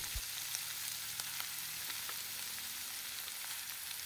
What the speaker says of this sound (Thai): ให้เราผัดผักของเรานะครับให้เขาสุกสลดนะครับ